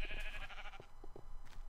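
Minecraft sheep giving nasal bleats, a drawn-out bleat at the start followed by a few shorter, softer bleats among light game background noise.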